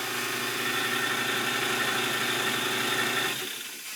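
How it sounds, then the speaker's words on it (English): A small air compressor runs steadily to supply a live steam model locomotive of the Welsh Highland Railway engine Russell, a close, even mechanical drone that holds for a few seconds, then drops away near the end. "Get the old compressor going."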